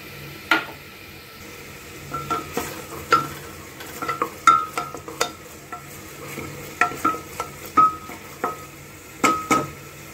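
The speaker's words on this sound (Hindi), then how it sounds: "मसाला हमारा रेडी हो चुका है, मसाला हमारा भुन गया अच्छे से।" Masala with grated ginger shreds sizzles softly in a pan while a spoon stirs and scrapes against the metal in irregular, close clinks.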